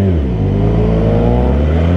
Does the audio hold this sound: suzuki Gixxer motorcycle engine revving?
yes